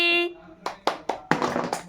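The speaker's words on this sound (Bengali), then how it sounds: "হ্যাঁ হাততালি" Hands clap several times at home on Christmas Day, sharp close claps at an uneven pace that bunch together toward the end, following a short tonal sound at the start.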